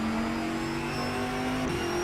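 A race car engine in the Raceroom racing game roars at high revs as it accelerates, a loud sustained tone with a brief dip around a gear change partway through.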